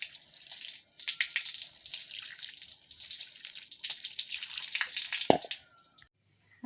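Five-petalled hibiscus flowers rinsed under running water for juice: steady gentle splashing and trickling of tap water, fairly soft, ending in a brief clatter before quiet.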